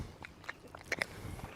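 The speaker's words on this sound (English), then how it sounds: "Y'all supposed to chew them up before you swallow them." A deer chews food with soft, irregular crunching bites spaced through the moment, close and fairly quiet against light background noise.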